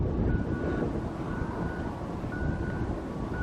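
Strong gusting wind buffets the microphone outdoors beside fencing and flags at a football team headquarters. It makes a continuous low, rough roar with rising and falling surges and no voices.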